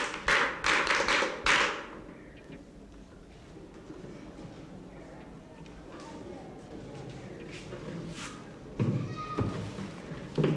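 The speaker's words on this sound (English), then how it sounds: "Clap for her." A classroom of pupils in Ghana claps for a classmate: a burst of fairly close, brisk hand claps lasting about two seconds, then a quieter room with faint scattered noises and a brief thump near the end.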